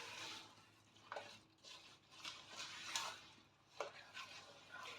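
Chocolate cake batter is mixed by hand in a single bowl, with soft scraping and swishing strokes and a few brighter clicks of the utensil against the bowl, close and fairly quiet, with no talking.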